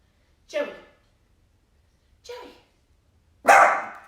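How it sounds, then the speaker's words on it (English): A dog barks indoors in a quiet room, three separate loud close barks spaced a second or more apart, the last one the strongest, with silence between them. "He's just barking because he hears me."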